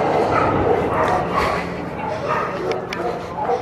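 Small dogs at a dog adoption shelter yip and bark in a busy, overlapping chorus, fairly close, with faint voices and general room noise underneath.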